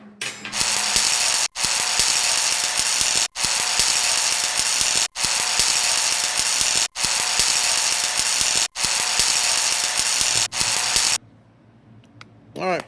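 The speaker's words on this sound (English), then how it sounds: "All right, let's weld it up." Welding on a rat rod: about seven long bursts of harsh, steady crackling hiss, separated by brief pauses, end in a quieter stretch of low background hum.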